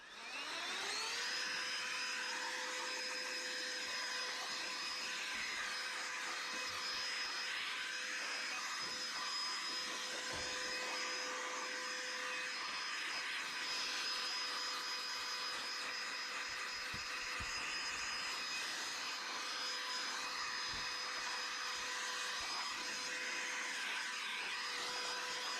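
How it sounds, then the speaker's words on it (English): A handheld electric blower clears dust from the inside of a budget desktop PC. It gives a steady, loud, whining drone that runs without a break for the whole stretch, with no speech over it. "ever reliable hand blower."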